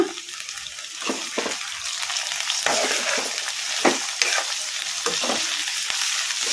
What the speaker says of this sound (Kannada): ಹೈ ಫ್ಲೇಮಲ್ಲಿ ಇಟ್ಕೊಂಡು ಒಂದೆರಡು ನಿಮಿಷ ಅಲಸ್ಕೊಂತ ಕುದಿಸ್ಕೊಂಬಿಡೋಣ